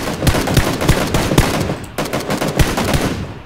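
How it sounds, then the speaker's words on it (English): Gunfire in a battle royale video game: loud, rapid automatic bursts of sharp shots in quick rhythm, with a brief pause before the firing resumes. "I'm gonna shoot him."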